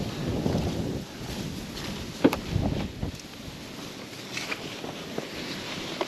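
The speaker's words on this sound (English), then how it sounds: "Like I said, it's pretty windy out." Wind gusts across an open Iowa field during an October pheasant hunt, a steady broadband rush with surges, a few brief knocks and rustles close by, and no talking.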